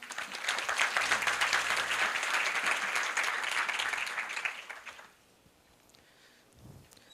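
A university audience gives a warm round of applause to welcome a men's cosmetics company's CEO. Dense clapping runs for about five seconds, then fades out into a quiet room.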